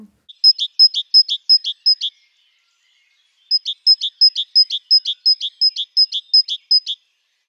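A great tit sings in a park or garden: two clear phrases of repeated bright two-note calls, evenly spaced and close, separated by a short silence.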